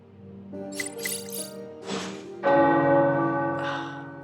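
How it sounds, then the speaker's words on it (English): Tower bells ring in the Marvel's Midnight Suns video game, several resonant strikes overlapping into a swelling, sustained peal with long ringing tails and no speech. "The tower bells are ringing."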